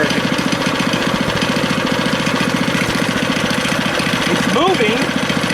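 A small go-kart engine idles with a steady, rapid chugging pulse, loud and close, running continuously, with a brief vocal sound near the end.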